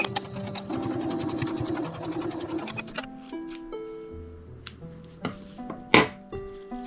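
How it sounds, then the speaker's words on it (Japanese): A sewing machine stitches a folded square of fabric for a quilted pouch, its rapid mechanical whirring running steadily at close range, with a few louder clicks and knocks toward the end. "8センチ平方の四角を半分に折ってここミシンで縫います。"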